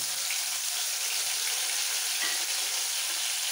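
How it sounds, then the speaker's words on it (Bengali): Black mustard paste tempering in hot oil in a pan for a katla fish curry, a dense continuous sizzle that stays loud and even throughout, with no speech. "ফোড়নটা একটু ভেজেই দিয়ে দিচ্ছি কালো সর্ষে বাটা"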